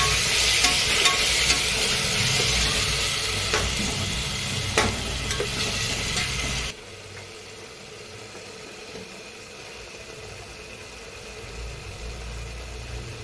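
Curd mixed into mushroom biryani masala hisses loudly in a pan for several seconds with a couple of sharp scrapes, then drops abruptly to a much quieter, low simmering sizzle.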